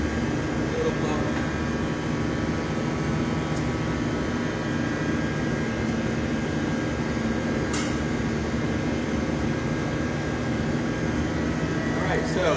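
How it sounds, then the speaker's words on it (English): A small air blower in a glassblowing studio gives a steady, even whoosh of rushing air that holds without a break, with occasional faint clinks and a person talking at times over the hum. "Little blower."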